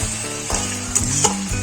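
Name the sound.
frying and stirring yogurt fish curry masala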